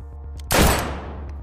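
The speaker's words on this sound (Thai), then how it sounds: "เสียงปืนดังสนั่นมาจากกระท่อมที่พักไกลๆ" A gunshot sound effect in a Thai audio drama, fired from a distant hut: one sharp, loud blast with a decaying echo over a low rumbling background.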